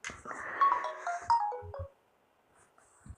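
A mobile phone ringtone plays a short descending electronic melody of bright tones, loud and close, then cuts off and leaves near silence with a soft knock.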